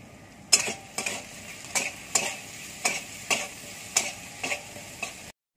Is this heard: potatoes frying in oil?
yes